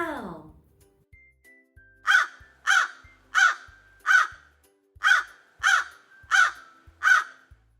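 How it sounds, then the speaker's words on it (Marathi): After a brief voice at the start, a crow caws eight times in an even, measured rhythm, each harsh call clear and fairly close against an otherwise quiet background. "This is a crow."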